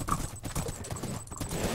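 Horse hooves clip-clop through a video game scene, a steady moderate patter of steps mixed with game noise and faint background sounds, heard for a couple of seconds.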